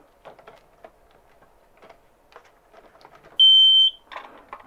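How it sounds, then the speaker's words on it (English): A flammable gas detector, under repair, gives a single sustained electronic beep for about half a second, loud and close, amid faint ticking and clicking noises. "see if we get a beep."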